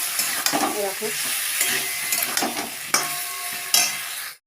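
Spices sautéing in a pan with a little water sizzle steadily under repeated stirring strokes, with a few sharper scrapes of the spoon against the pan near the end.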